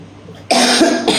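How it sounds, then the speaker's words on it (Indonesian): A single loud, close cough, a short harsh burst followed by a second smaller catch, heard alone. "Batuk aku"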